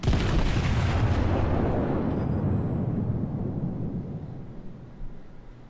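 Heavy battleship guns of the Colorado fire a broadside in World of Warships, a loud booming blast at the start that rumbles and slowly decays over several seconds, with no talk.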